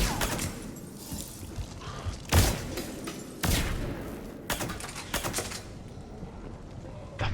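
Heavy gunfire in the video game Mass Effect 3, dense rapid bursts of shots with a few louder booming hits, continuous and close throughout.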